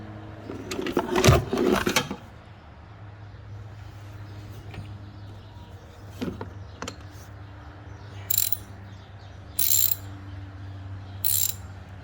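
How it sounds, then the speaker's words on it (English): A ratchet tightens a replacement engine coolant temperature sensor on a 2017 Jeep Cherokee, with a burst of rapid clicking near the start and three short clicking runs later, all over a steady low hum. "now we're just tightening"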